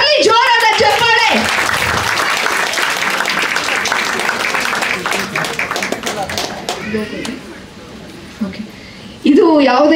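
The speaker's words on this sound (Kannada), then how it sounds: "ಬರಲಿ ಜೋರಾದ ಚಪ್ಪಾಳೆ" Loud applause from an audience at the launch of the Guarantee News channel, dense clapping that runs for several seconds after a brief voice, thins out and fades, then speech returns at the end.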